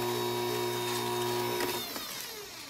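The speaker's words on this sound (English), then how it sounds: "Mix at medium speed and then go to high for about 3 to 4 minutes." An electric mixer beats whole wheat cake batter at high speed, a steady close whirring hum with a slight shift in pitch near the end, and no one speaking.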